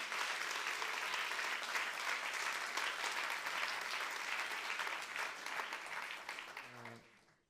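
Dense, enthusiastic audience applause at the final ceremony of a Manos Unidas short-film contest, a full hall clapping steadily for several seconds before tapering off quickly at the end.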